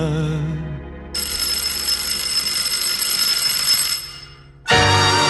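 An electric doorbell at a house with red brick walls and black railings rings loudly and steadily for about three seconds, then cuts off and starts again briefly at the end.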